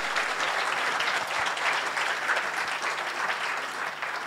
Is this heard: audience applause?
yes